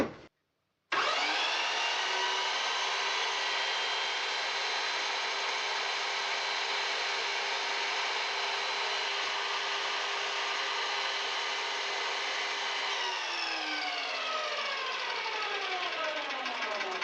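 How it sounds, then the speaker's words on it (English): A Makita 18-volt cordless hedge trimmer starts abruptly after a brief silence and runs at a steady, loud, high motor whine for many seconds, then winds down with a falling pitch near the end. "a heavy-duty Makita 18-volt verge trimmer"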